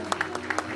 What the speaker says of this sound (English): Y'all clap your hands for Cliff